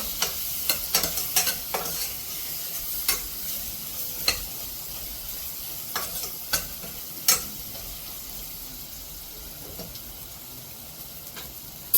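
Whole spices and a pinch of turmeric fry gently in oil for veg pulao under a faint, even sizzle, while a spoon stirs with scattered sharp scrapes and taps against the pan.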